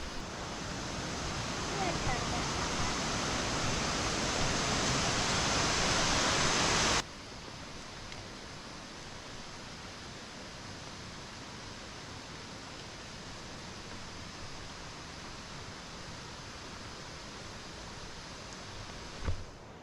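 Upper Salmon Creek Falls in the Big Sur Silver Peak Wilderness, a loud steady roar of falling water for about seven seconds, then a quieter continuous rush as if heard from farther away.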